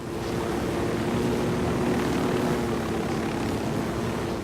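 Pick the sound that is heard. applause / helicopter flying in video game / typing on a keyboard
helicopter flying in video game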